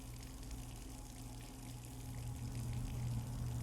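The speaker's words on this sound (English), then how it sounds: "Hey, the basement is flooding." Water flooding a basement in the video game Scarlet Hollow: a steady rushing, pouring wash under a low hum, growing slightly louder toward the end, with no voices.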